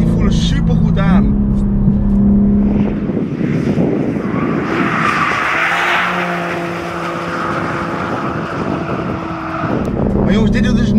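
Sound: 2021 BMW M3/M4 Competition driving on Zandvoort circuit

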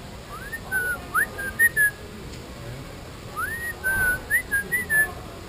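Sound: colorful bird calling

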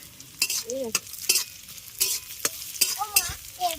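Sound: coconut pieces frying in a pan

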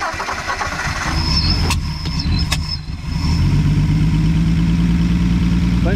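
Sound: 1959 Edsel Ranger engine running after first start

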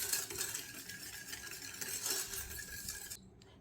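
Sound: stirring milk with sugar while boiling

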